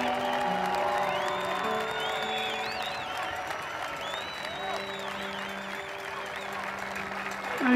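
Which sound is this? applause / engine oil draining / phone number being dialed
applause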